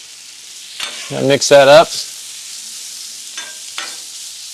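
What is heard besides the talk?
pork chops sizzling in oil on Blackstone griddle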